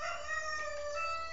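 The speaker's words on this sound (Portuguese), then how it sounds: "E cantou o galo." A rooster crows once in a clear, sustained harmonic call, fairly near but moderately quiet, standing alone without talk.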